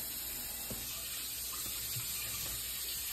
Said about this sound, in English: Doing dishes. Doing dishes.